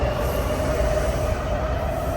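A Washington DC Metro train runs through a downtown underground station, a loud continuous rumble with a steady high wheel whine and no breaks.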